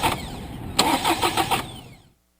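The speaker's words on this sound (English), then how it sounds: "cranks the engine." A car engine cranks briefly and catches, firing into a rough, rising run for about a second before the sound cuts off abruptly; heard up close during a multimeter amperage test, with no talk.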